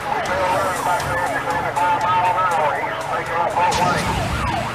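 A police car siren wails, sweeping up and down repeatedly, loud and close, over rumbling traffic noise during a high-speed pursuit.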